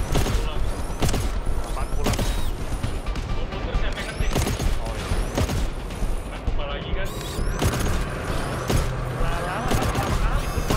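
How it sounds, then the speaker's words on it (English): Gunfire in the game GTFO, including a shotgun, loud sharp blasts repeating in quick succession over busy combat noise throughout. "Blue shotgun sekarang."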